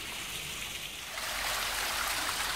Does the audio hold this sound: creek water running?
yes